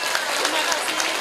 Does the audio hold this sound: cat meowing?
no